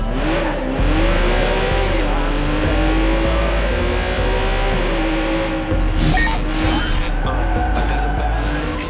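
A car in the Watch Dogs 2 video game drives with a loud, steady engine drone that rises and falls with revving, with brief tire squeal and skidding, close and continuous throughout.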